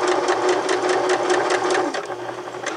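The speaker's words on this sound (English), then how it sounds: "Backstitch and stitch all the way to the end" A sewing machine stitching a zigzag at narrow width and then backstitching, a loud, close, rapid mechanical chatter that runs steadily and eases slightly toward the end.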